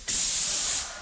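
A paint sprayer coating a staircase lets out a single loud, steady hiss lasting about a second before tapering off.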